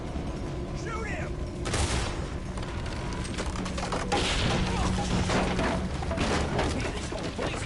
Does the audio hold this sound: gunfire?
yes